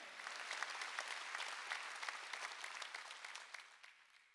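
Church congregation clapping during a Wednesday worship service, a dense, steady wash of many hands at moderate level that thins and fades toward the end, with no voices over it.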